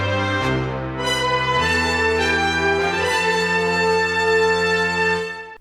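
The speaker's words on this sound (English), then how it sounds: "These horns together sound like this." Synthesized trumpet and horn section played on a keyboard, holding bright brassy chords that shift a few times, sustained and full without pause.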